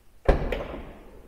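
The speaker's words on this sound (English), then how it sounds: "this is the button for the sliding door" Electric sliding door on a VW T6.1 California van opening: a single loud thunk as the latch releases, a second softer knock moments later, then a fading rumble of the door sliding along its track, close by with no talk.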